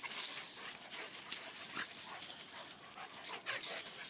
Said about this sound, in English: Twiggy barking.